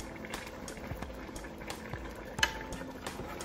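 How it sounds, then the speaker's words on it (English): Nigerian spinach and okra soup simmering in a pot, a soft steady bubbling and popping with a few sharper pops, close and fairly quiet, no voices. "And just let it simmer."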